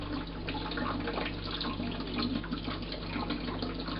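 Water runs steadily from a tap into a kitchen sink while dishes are washed, a continuous close rushing with no talking over it.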